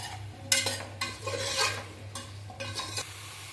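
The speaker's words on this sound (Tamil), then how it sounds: "காய் வந்து உப்பு சேர்த்து நல்லா ஒரு நிமிஷம் நம்ம மிக்ஸ் பண்ணி வதக்கி விட்டாச்சு." A spoon scrapes and stirs chopped vegetables with salt in a pot while they sauté for a one-pot sambar rice, several quick close scraping strokes over a faint sizzle.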